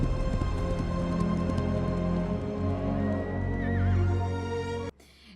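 A horse in a Rings of Power episode gives a loud, drawn-out neigh and whinny over background music, ending abruptly.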